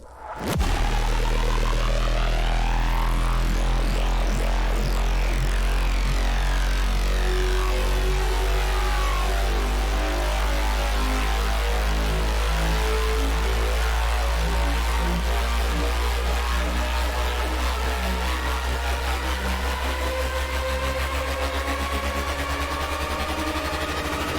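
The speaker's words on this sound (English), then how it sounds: "5, 4, 3, 2, 1. Ignition." A rocket engine ignites in the game Space Race 2, with a sudden onset followed by a long, loud, steady roar with low pulsing tones that slowly shift in pitch.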